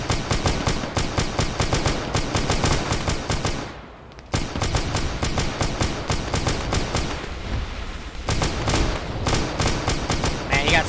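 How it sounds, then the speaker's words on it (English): Intense video game battle in a meat-grinder infantry fight: dense, continuous machine-gun and rifle fire with scattered blasts, one brief lull midway, then relentless shooting resumes at close range, loud throughout. "You got smokes being popped, grenades being thrown."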